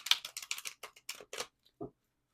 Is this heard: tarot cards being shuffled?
yes